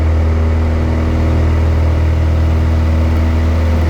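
A small aircraft's piston engine runs at full takeoff power during a night practice flight, a loud, steady droning roar with a strong low hum that holds constant and close throughout, heard from inside the cockpit.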